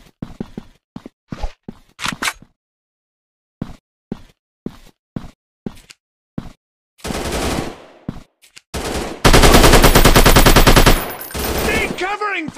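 Game gunfire in Fps Commando Gun Strike Ops 3D: a run of sharp separate shots with short gaps, then longer loud bursts of rapid automatic fire toward the end, all close and with no talk.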